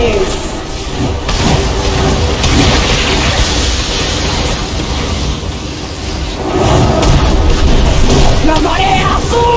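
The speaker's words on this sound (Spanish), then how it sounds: "¡Se está formando una tormenta!" A thunderstorm forms in World of Warcraft as a loud, continuous roaring rumble mixed with a rain-like hiss and swelling booms, with voices partly buried underneath.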